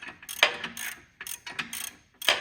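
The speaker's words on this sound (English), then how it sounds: "I put the ratchet down here now because it's just a lot easier" A hand ratchet clicks in quick, repeated bursts as bolts on a truck are turned with a barring tool during a G56 transmission swap; close, crisp clicking with short pauses between strokes and no talking.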